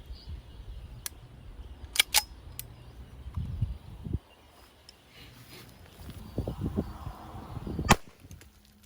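A 45 ACP pistol loaded with hard cast rounds fires into water jugs, giving several sharp, loud reports spread across the span, with quieter clatter and thuds between them.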